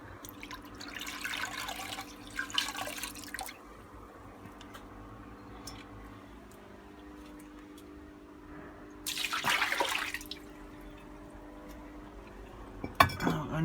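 A Bosch washing machine takes in water, with two bursts of rushing, splashing inflow separated by quieter dripping and faint clinks against a steady low hum.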